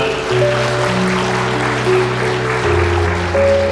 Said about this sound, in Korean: 다시 한번 여러분 큰 박수 부탁드리겠습니다